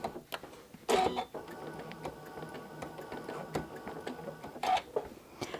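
A sewing machine stitches a thread-painted landscape scene, running in a steady, fast, quiet mechanical patter close by, with a few louder knocks near the start and end.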